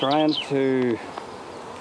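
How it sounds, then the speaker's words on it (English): Dark, docile Irish black honey bees, a native breed, hum steadily in an open hive, while a person speaks briefly close by over the buzzing. "And these are quite dark, quite docile, and a good type of bee to keep."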